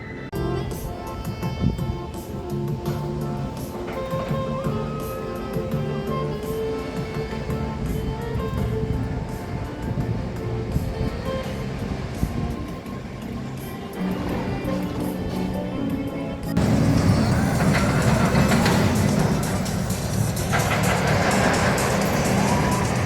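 Loud, steady mechanical roar and rattle of an old Schwarzkopf roller coaster train running along the long track at Nagashima Spa Land, Japan, with wind rush that swells into a heavier roar near the end.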